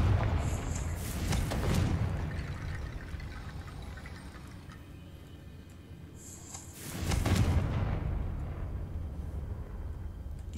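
Confringo fire spells burst in Hogwarts Legacy, two heavy whooshing blasts a few seconds apart, each swelling into a roaring rumble that slowly fades back into a low ambient hum.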